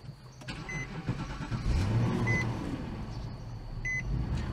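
A car with a faulty radiator cap and an overfull coolant reservoir cranks and fires up, the engine catching and settling into a steady idle, with a few short electronic chimes from the dashboard.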